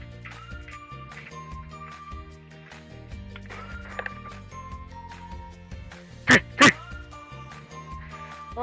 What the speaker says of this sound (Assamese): দাদা হাঁহ আছে